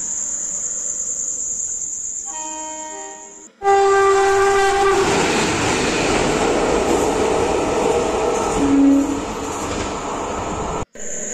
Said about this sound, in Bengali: আসছে জানি না, এটা কোথাকার ট্রেন।